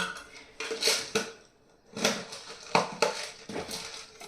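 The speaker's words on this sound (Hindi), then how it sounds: "इसको लगाएंगे ढक्कन और यहाँ पर रख देंगे" A lid clatters onto a container of soaked sago in a home kitchen, with several close, sharp clinks and knocks of dishes and utensils separated by brief pauses.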